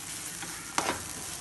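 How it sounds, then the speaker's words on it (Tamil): Grated coconut and raisins are stirred in a pan, giving a quiet, steady sizzle with one brief, sharper scrape of the spoon partway through. "தேங்காய் துருவல் எடுத்து வச்சிருக்கோம் அதையும் சேர்த்துறலாம் சேர்த்து நல்லா mix பண்ணி விட்டுக்கோங்க"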